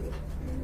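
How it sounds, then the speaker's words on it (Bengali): A Kashmiri racer pigeon gives a brief, soft, low coo close by, a single short murmur. "বন্ধুরা, আরেক জোড়া কবুতর দেখতে পাচ্ছেন, রেসার কবুতর, কাশ্মীরি রেসার।"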